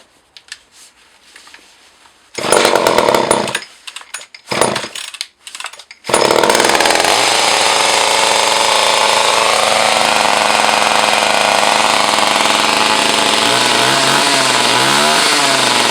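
A Jobu SL 3 chainsaw races at excessively high RPM. A few short, loud revving bursts come first, then the engine locks into a continuous, piercing high-speed scream up close. No one talks.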